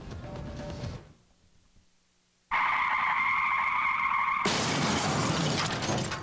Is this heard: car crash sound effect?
yes